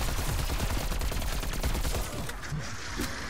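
Rapid gunfire from a weapon in the video game Die Maschine, a dense, continuous burst of shots with booming low end that eases slightly toward the end, with no talk over it.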